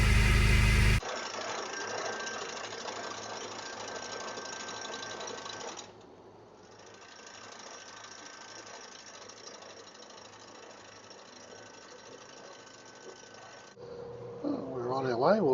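A sailboat's engine motors out on a low tide, running as a steady, close mechanical drone with a rhythmic knocking beat, dropping briefly in level partway through and then continuing until a louder burst of noise at the end.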